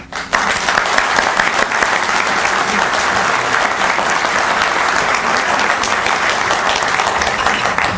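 An audience applauds to welcome a guest speaker at a talk on Muslims and Christians, with sustained, dense, loud clapping throughout and no voices above it.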